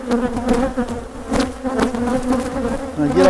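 Honeybees from a weak colony buzz close and loud in a continuous drone with wavering pitch while being moved onto a hive, no voices.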